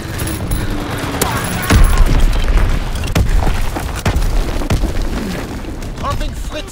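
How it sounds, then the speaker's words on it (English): Explosions of a bomb strike boom through a Call of Duty: WWII multiplayer battle, several heavy deep blasts and sharp cracks over rolling gunfire and rumble, loud and close, with game voice lines heard. "Enemy bomb incoming! Get to cover!"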